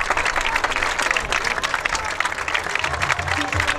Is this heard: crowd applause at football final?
yes